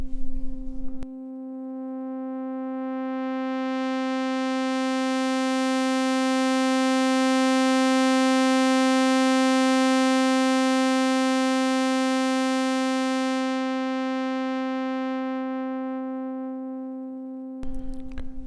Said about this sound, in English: put 2 oscillators on and sync them together, and here's the sound of the saw